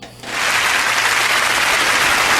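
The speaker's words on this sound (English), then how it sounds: "I was not expecting claps at the moment" Studio audience on a radio show bursts into applause after a brief quiet moment, the clapping dense, steady and fairly loud, sustained to the end.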